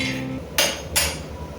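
Peanuts roasting in a pan over a low flame being stirred, two short rattling scrapes of nuts and spoon against the pan in quick succession.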